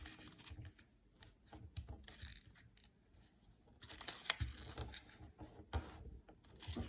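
Paper being folded by hand into a paper airplane glider, with close, irregular rustling, creasing and sharp crinkly taps across the whole stretch, louder bursts near the end.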